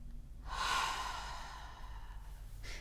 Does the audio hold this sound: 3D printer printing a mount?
no